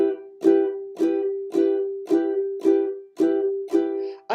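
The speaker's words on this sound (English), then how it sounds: "what I'm doing is I'm squeezing the strings as I strum down." Ukulele chords strummed down in a steady pulse, eight even strokes with each ring cut short by squeezing the strings, giving a choppy rhythmic feel, close and solo with no voices.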